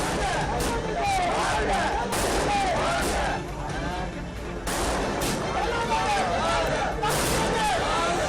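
Dense bursts of firecrackers set off by celebrating party supporters in Tamil Nadu crackle and pop continuously, with sharp rapid bangs layered over a crowd murmur, loud and close.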